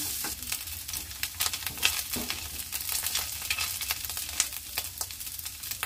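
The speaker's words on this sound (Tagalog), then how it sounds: "Medyo i-toast lang natin yung bawang." Garlic toasts in a pan for beef pares fried rice, a moderate sizzle broken by rapid close stirring clicks and scrapes of a spatula.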